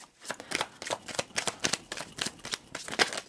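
Tarot cards are shuffled and handled up close, with a rapid, steady run of papery riffling snaps and no talking.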